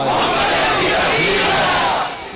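A large rally crowd roars religious slogans in unison, a dense, loud wall of massed voices that holds steady and then eases slightly at the end.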